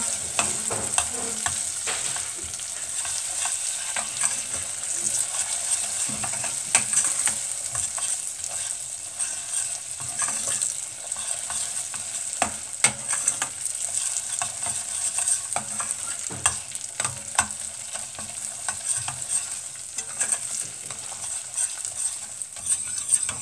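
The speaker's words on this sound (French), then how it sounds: "Là, notre beurre est bon, il est bien fondu dans le caramel." Butter melting into hot caramel in a pan for a Turkish cake, with a continuous crackling sizzle and frequent small stirring clicks and taps, close and lively, with no talking.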